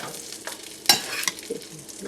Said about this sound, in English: I'm going to go ahead and put my patties back in the pan